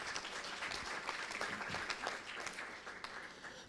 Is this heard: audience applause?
yes